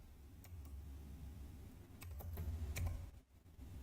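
A search is typed into the Microsoft Store on a PC computer keyboard, making quiet, close keystroke clicks in short uneven bursts.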